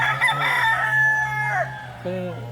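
A rooster crows loudly nearby, one drawn-out call, followed by a short clucking sound at the end.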